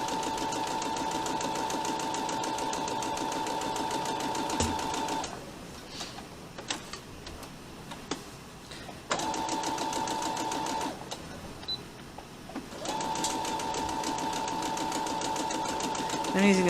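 Domestic sewing machine stitching a fabric face mask at a tight 2 mm stitch, a steady close whirring hum that runs in long bursts, pausing twice with handling noises between runs.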